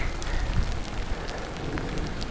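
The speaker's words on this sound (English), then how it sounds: "All this rain." Heavy rain pouring down during a bike commute, a dense steady wash of hiss and patter with wind noise, continuous and fairly loud around the rider.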